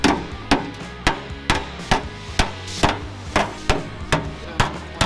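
Sheet metal on an off-road recovery vehicle build being hammered flat, about a dozen sharp, evenly spaced metallic strikes close to the microphone, with a faint background hum between blows.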